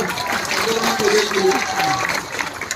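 Crowd clapping at an outdoor public meeting in a market area with a state chief minister, steady dense applause mixed with loud murmuring voices and calls throughout.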